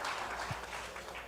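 Audience applause at a panel event, a faint, steady wash of clapping heard from a distance and lasting the whole moment.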